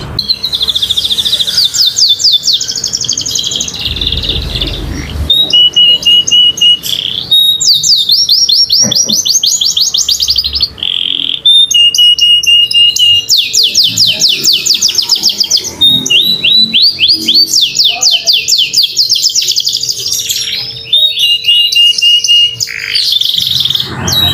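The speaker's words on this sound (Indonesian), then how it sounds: "burung ngedur banget durasi panjang volume kenceng" A canary sings loudly and continuously up close, rapid trilling phrases and high chirps repeating with only brief pauses.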